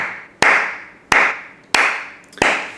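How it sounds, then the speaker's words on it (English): A single person clapping slowly and steadily, four crisp, loud claps spaced roughly two-thirds of a second apart, each trailing off in a short echo with nothing else audible. "And I'm gonna just keep clapping."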